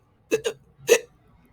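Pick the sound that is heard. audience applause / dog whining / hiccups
hiccups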